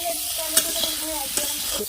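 Potatoes are stirred and fried in oil for an egg curry, with a soft continuous sizzle broken by a few sharp scrapes of the spatula against the pan.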